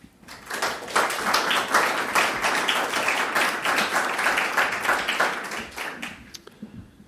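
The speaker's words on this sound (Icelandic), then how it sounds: "ég vil bara biðja ykkur að gefa Haraldi gott klapp" A seated audience at an Icelandic energy fund grants presentation claps for the next presenter, steady dense applause swelling quickly, holding for several seconds, then thinning into scattered claps.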